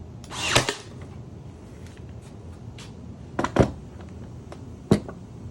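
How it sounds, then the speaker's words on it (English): Ryobi Airstrike cordless nailer driving nails into wood, three sharp bursts: a longer double shot near the start, then two quick isolated snaps spaced apart, close and fairly loud against a quiet workshop background. "I grab the Ryobi Airstrike. I love this nailer."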